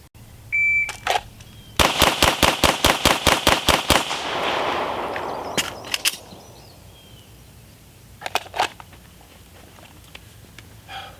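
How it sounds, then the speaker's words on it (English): Handgun shots fitted with a red dot sight crack out in a fast string of about ten close, loud reports, followed by a few scattered single and paired shots on an outdoor range, no voices over them. "Look where you want to hit, present the gun, dot's going to fall into place, break the shot."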